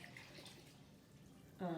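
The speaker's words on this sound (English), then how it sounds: "You just pour in the water" Boiling water is poured from a jug into play dough mixture, giving a soft continuous splashing trickle at low level before a voice starts speaking at the end.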